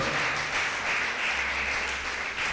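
A church congregation at a Sunday evangelical worship service applauds, with dense, steady clapping that fills the whole moment at an even, moderate level and no break.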